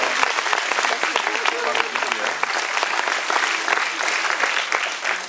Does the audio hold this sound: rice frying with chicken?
no